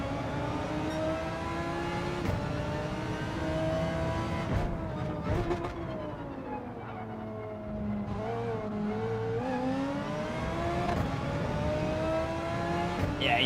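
Race car engines in Gran Turismo 7 daily racing roar steadily for the whole stretch, rising and falling in pitch as cars accelerate and shift, with a rival car closing in under faint talk.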